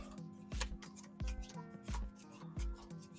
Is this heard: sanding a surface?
no